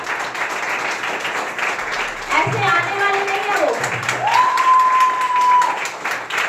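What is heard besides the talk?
loud applause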